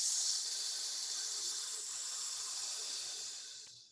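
A long, steady hiss of breath pushed out through the teeth, close and fairly quiet, tapering off at the end.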